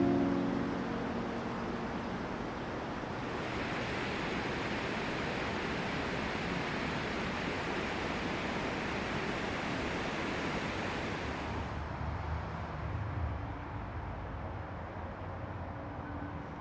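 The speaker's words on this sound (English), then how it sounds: "Everywhere in the monastery, you can clearly hear the sound of the flowing river." The Buna River at Blagaj Tekke, a dervish monastery near Mostar, rushes in a steady, broad wash of water noise that stays constant throughout, with no voices over it.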